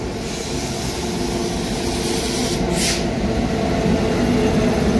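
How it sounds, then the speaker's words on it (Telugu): The Godavari Express, running from Secunderabad to Visakhapatnam, rolls through Secunderabad station with a loud, steady rumble of wheels and carriages, close and continuous, with a brief hiss partway through. "ఓ గోదావరి ఎక్స్ప్రెస్ అండి"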